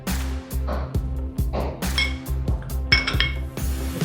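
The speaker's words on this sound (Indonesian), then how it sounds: "Kita aduk, kita break telurnya ya supaya nyatu semuanya." Chocolate chip scone batter being stirred in a bowl while eggs are broken in gives a series of close clinks and knocks from utensils against the bowl, in irregular bursts with no talk.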